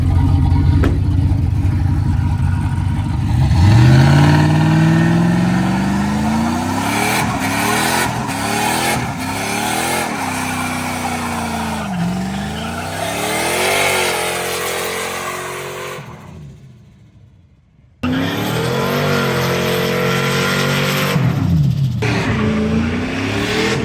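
A turbocharged sleeper car, its turbo hidden in a tool box, revs and accelerates hard with rising engine pitch through several gear pulls. Then it cuts out into brief near-silence before the loud engine roar returns.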